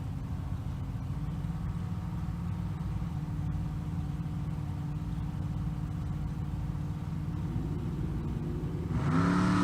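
Shelby GT350 clone Mustang fastback and a 2001 Mustang race side by side, a steady loud engine drone holding through the run, then rising sharply into a revving surge near the end.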